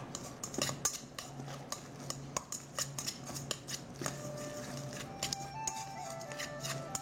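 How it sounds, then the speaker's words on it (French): A chopstick stirs sticky noodles bound with cornstarch in a bowl, giving close, irregular clicks and soft wet scrapes that quicken and scatter across the stretch, with no voices. "On va aider avec une baguette. On mélange ensemble."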